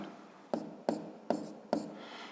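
Pen writing on paper during a fifth-grade math exercise, four short scratchy strokes spaced about half a second apart, close and quiet, with no voices.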